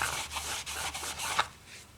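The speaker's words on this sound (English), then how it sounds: "So you kind of scrape with your fingernail once you get it a little loose." Fingernail scraping old residue off a part of a Paradigm 9SE loudspeaker during restoration, a close, rapid rasping rub in short repeated strokes that fades toward the end, with no talking.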